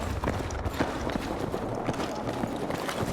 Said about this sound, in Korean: 발소리가 들린다는 건 아는데